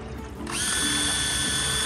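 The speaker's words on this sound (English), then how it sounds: "we're gonna try the drill motor while we have this motor" A power drill motor driving a DIY electric jon boat spins up abruptly and holds a steady, high-pitched whir, loud and close.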